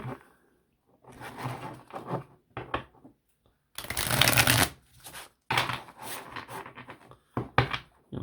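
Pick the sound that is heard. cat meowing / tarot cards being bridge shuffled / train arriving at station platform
tarot cards being bridge shuffled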